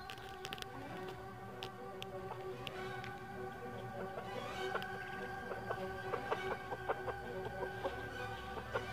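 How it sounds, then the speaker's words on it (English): A rooster hidden under a tarp in a hay bin clucks and murmurs in soft, irregular bursts, faint and close, with scattered rustling and no talk. "Check it out. My rooster's playing fort, like army or something."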